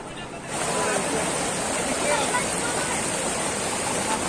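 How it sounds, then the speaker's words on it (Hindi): At Usri Falls in Giridih, a waterfall roars as a loud, continuous broadband rush that swells in after a brief quieter moment and then holds steady close by. "ये देखिए यहीं से जो है झरना नीचे की तरफ जा रही है"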